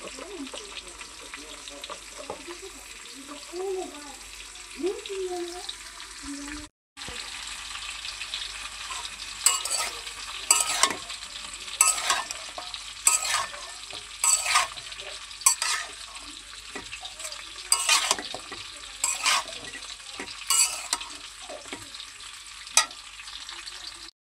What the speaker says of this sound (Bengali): এই তরকারিটা আমার ভেজে নেওয়া হয়েছে